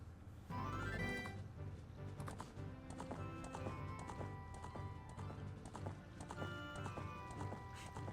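Horse hooves clip-clopping in The Legend of Zelda: Ocarina of Time, a rhythmic run of sharp hoof taps over game music, with a brief whinny-like flourish near the start.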